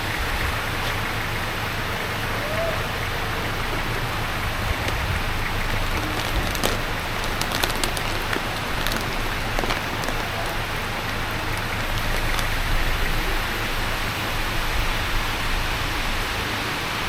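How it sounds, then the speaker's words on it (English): Heavy rain falls without letup, a loud, dense, even hiss with pattering drops on surfaces nearby, continuing unchanged for the whole stretch. "the rain, it won't stop, look."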